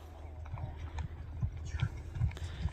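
Rhythmic hoofbeats of a galloping horse at a Kyrgyz ulak (goat-carcass polo) game, thudding in quick repeated clusters, moderately distant, with faint crowd noise behind.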